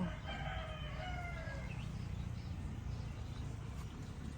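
A rooster crows once in a faint, drawn-out call at a distance in a home vegetable garden, over a steady low background hum.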